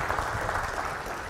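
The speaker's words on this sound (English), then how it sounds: "Would you give Dr. Sherwin a round of applause here this evening?" Audience in an evening church gathering claps in a brief, dense burst of applause, moderately loud and without talk.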